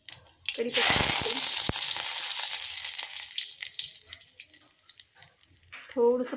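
Curry leaves dropped into hot oil for a tempering burst into a loud, sudden sizzle that spits and crackles, then slowly fades over several seconds before a short voice.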